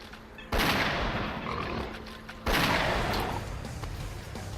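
Two loud gunshots in S.T.A.L.K.E.R.: Clear Sky, sharp blasts about two seconds apart, each trailing into a long rumbling decay over low background noise.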